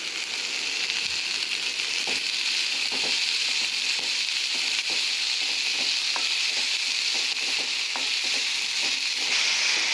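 Chopped onion and green onion fry in a hot pan for a Gujarati bhakri recipe, giving a steady close sizzle with scattered crackles and stirring clicks throughout, no voices.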